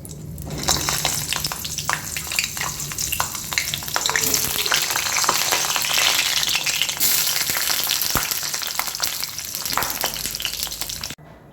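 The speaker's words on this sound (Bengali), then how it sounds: "এরপরে এই পটলগুলো আমি কড়া করে ভেজে নেব।" Stuffed pointed gourds deep fry in hot oil in a wok, a loud continuous sizzle and crackle with scattered pops and an occasional stir, close up and without any talk.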